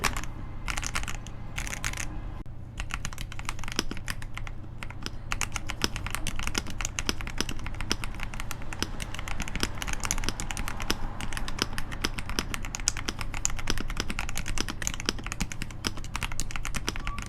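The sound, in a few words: typing on KBD67 Lite keyboard, pre-lubed linear switches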